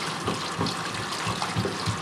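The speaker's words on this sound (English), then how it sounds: "This is where I use the hot water. Work it right into that brain cavity." Hot water runs steadily from a tap into the brain cavity of a longhorn bull skull, a continuous close splashing gush with small gurgling pulses and no talk.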